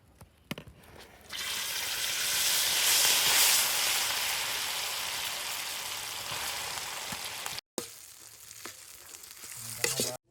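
An egg and bread mixture fries in oil in a kadai pan, a loud, dense sizzling hiss that swells after a quiet start, with a few clicks and a brief cut near the end.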